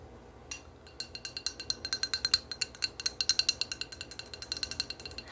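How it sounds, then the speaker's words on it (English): Glass is tapped repeatedly during a shamanic healing ritual, producing a quick, fairly regular series of light, bright clinks that continues for about five seconds at close range. "I'm tapping, doing some glass tapping"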